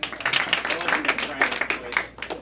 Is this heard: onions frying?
no